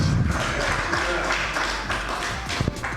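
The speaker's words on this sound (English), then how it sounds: "Let's give her a round of applause." Applause breaks out at a domino league closing ceremony as the audience claps for a woman player, dense clapping running the whole stretch with a few sharper hand strikes near the end.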